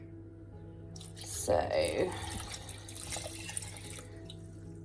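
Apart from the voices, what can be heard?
water being poured into a pressure cooker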